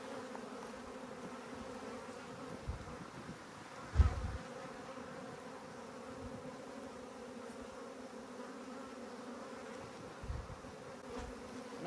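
Honeybees hum in a steady, continuous drone while a hive is relocated out of a water meter box, with a couple of brief thumps from handling.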